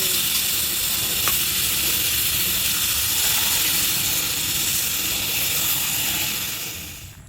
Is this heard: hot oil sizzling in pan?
yes